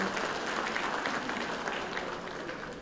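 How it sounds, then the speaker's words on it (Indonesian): An audience at an Indonesian official gathering claps for Anindya Bakri, a dense, steady round of applause that fills the room and tapers slightly toward the end. "Tepuk tangan untuk Mas Anin"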